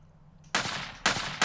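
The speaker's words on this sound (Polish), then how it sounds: "We forcie ktoś strzela." Gunfire rings out from a fort in MTA: San Andreas DayZ, three sharp, loud broadband bursts: one at mid-clip, a second about half a second later, and a third cut off at the end, after a quiet lead-in.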